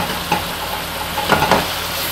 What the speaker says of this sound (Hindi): हम इसको तकरीबन 4 से 5 मिनट तक भूनेंगे कि इसके अंदर से सारा ब्लड और इसका जो कच्चापन है कीमे का वो निकल जाए